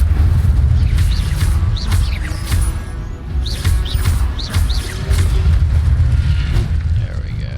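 Fire spell cast in Hogwarts Legacy on PS5 bursts loudly over a dense, rumbling game soundscape, with booming impacts and bright chirping effects throughout.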